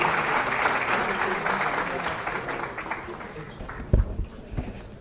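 A room full of people clapping steadily, strong at first and then tapering off, with a few scattered claps fading near the end.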